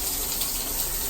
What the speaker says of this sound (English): The shower pressure works.